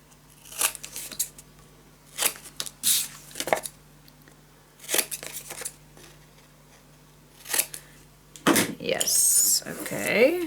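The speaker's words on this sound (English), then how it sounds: "Go, cut the corners." Scissors snip repeatedly around paper corners for a scrapbook album, a series of short crisp cuts in bursts with brief pauses, followed by a louder rustle of handled paper near the end.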